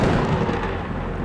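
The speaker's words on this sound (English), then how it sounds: "The sound of lightning and thunder was so loud that everybody expected a big" A cartoon thunder and lightning crash rumbles as a dense, loud, continuous roar of thunder that fills the whole short stretch without a break.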